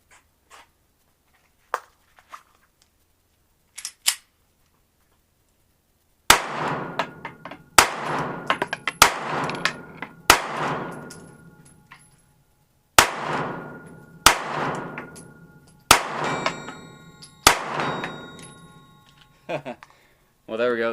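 A Smith & Wesson M&P Shield 9mm pistol fires about eight sharp shots at a steel gong a little over 50 yards away, spaced a second or two apart, some answered by a faint distant ring; quiet shots and handling noises come earlier.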